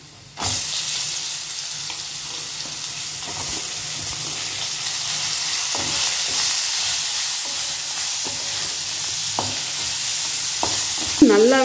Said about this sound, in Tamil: வெங்காயம் வதங்கிடுச்சுங்க.